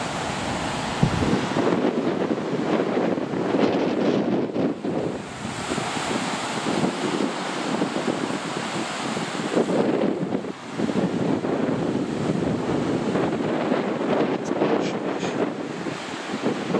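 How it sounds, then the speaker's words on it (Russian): Surf rolls onto the largest beach in Mellieħa, Malta, a steady broadband wash of waves heavily buffeted by wind rumbling against the microphone throughout. "вот этот пляж, это является самым большим пляжем на острове Мальта"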